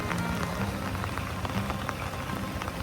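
Rain falls on a rice field being ploughed, a steady dense hiss of drops hitting the ground and nearby surfaces, close and continuous with no voices.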